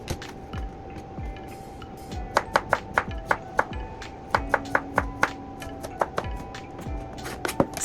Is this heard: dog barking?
no